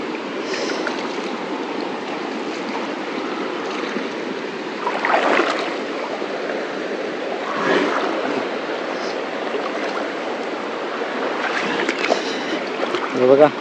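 A river in a Konkan village rushes over rocky stone as people wade across it, a steady broad wash of flowing water with occasional louder splashes and sloshing close by.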